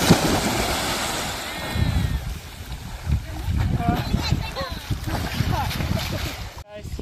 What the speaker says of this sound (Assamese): নাও চলাইছে, মানে সৰু নাওটো কল দি বনাইছে